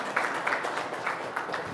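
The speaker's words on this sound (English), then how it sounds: "It's okay if you want to clap" An audience at a Native American cultural affiliation and repatriation work session claps steadily. The broadband applause is moderately loud and continuous throughout, with no voices over it.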